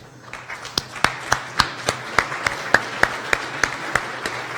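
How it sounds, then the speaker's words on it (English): Families of graduates are applauded at a 2019 hospital graduation ceremony, heard as a thin, steady run of individual claps at an even pace, fairly close, with a soft room murmur beneath. "Would the families please stand up of the graduates for another applause?"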